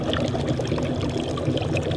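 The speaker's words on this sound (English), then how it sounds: "as the CO2 goes in the liquid, it bubbles straight away, it's subliming straight into a gas" Dry ice dropped into an alkali solution, bubbling and fizzing steadily as it sublimes, a close, continuous liquid gurgle without speech.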